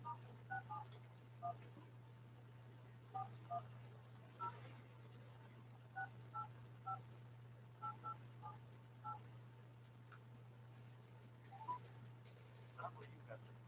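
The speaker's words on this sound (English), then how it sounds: "I'm going to call the Salvation Army." Telephone keypad tones sound over a steady low hum during a call to a charity, a quiet series of short dual beeps in irregular clusters, some pairs and runs of several presses.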